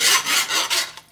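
A metal whisk scrapes and rasps against the ridged bottom of a cooking pot while stirring flour into onions for a chicken pot pie filling, several loud rough strokes in quick succession with no talking.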